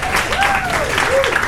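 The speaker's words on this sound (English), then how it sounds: "Everybody give him a nice big round of applause real quick." Steady, dense audience applause for a performer fills the room, with a few thin whistles rising above the clapping; it stays close, even and loud throughout.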